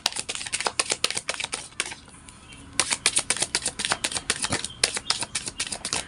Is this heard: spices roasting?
no